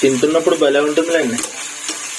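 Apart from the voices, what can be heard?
frying and stirring potatoes with cumin in a pan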